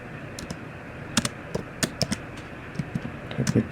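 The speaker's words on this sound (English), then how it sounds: "Type it here." Typing on a computer keyboard, a scattered run of close, crisp key presses over a low background hum.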